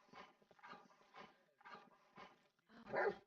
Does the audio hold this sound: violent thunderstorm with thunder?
no